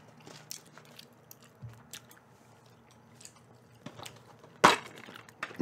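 Gum being chewed up close, with soft wet squishes and small bites at an irregular pace, quiet overall with one sharper crunchy burst near the end, no talking.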